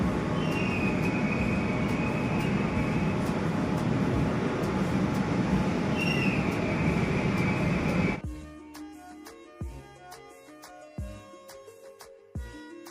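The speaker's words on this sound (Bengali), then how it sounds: "হাওড়া স্টেশনে থামার পর এখন কিন্তু ট্রেন হাওড়া ময়দানের দিকে চলে গিয়েছে" A metro train rumbles loudly for several seconds departing underground Howrah station, then the roar cuts off, leaving quieter clanks and scattered knocks of the station platform.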